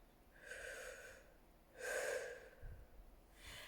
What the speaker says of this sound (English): we press into the middle and breathe in